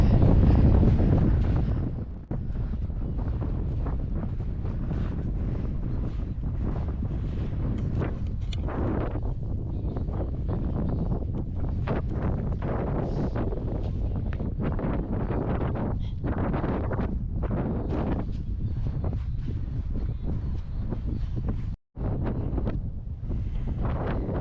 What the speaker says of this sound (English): Nearer to the coast because that wind has just got up.